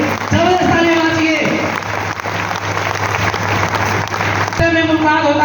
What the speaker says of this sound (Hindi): जोरदार ताली मांगिए रोशन सर के लिए, जबरदस्त ताली मांगिए।